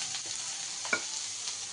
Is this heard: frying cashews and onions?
yes